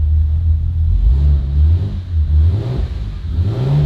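Turbocharged Ford Fairlane engine on its first start-up with a Haltech ECU, idling loud and rough with low rumbling revs that rise and fall unevenly, close by and continuous.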